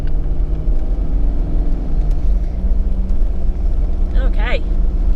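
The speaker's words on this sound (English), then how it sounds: "We are driving." A car drives along a dirt track in Big River State Forest, Victoria, with a steady low engine and road rumble throughout and a brief voice near the end.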